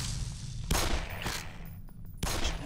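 Gunfire in Black Mesa, close and loud, with heavy bursts of shots at about 0.7 and 2.2 seconds and a rattle of further shots between them.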